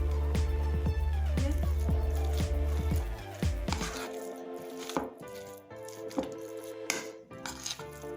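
Raw chicken mince for kofta being mixed by hand, wet squishing and slapping pulses with soft chopping-like knocks, loud at first and then quieter and more sporadic, with no talk.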